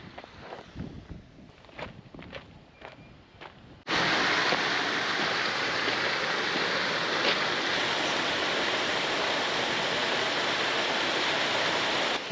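Wain Wath Force waterfall in Swaledale at low water, a loud steady rush of falling water, preceded by a few seconds of quieter outdoor sounds and footsteps while approaching.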